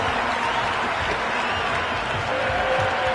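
A dense cricket stadium crowd roars and applauds steadily after a boundary four in an India versus South Africa T20 match, with the noise broad and sustained throughout.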